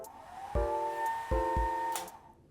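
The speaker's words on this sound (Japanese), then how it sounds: "あ、でもやっぱりスイートでもこのタイプのドライヤーなんですね。" A low-power hair dryer in the tiled bathroom of a Pacific ferry suite cabin is switched on, humming weakly with a steady tonal whine, cutting out and restarting with button clicks.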